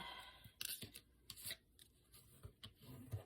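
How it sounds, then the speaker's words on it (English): Decorative-edge scallop scissors cut through paper in a quiet crafting setting, giving a few crisp, close snips with soft rustling of the paper between them, faint and alone with no talk. "I took my decorative edge scissors, just the scallop ones"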